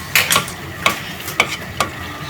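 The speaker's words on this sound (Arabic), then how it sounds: "صافي نخلط مزيان هاد العناصر ونخليهم يتشحروا مزيان" Vegetables for soup are stirred in a pot, four distinct scraping strokes at a steady, unhurried pace over a soft sizzle, close and clear with no talking.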